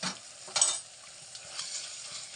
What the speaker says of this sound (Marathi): त्याला पण चांगलं परतवते